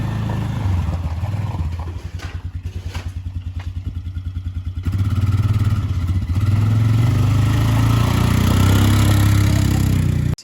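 A Honda Rancher ATV engine idles close by while warming up, a steady, loud low rumble with a rapid pulsing beat. It briefly dips, then settles into a fuller, even drone.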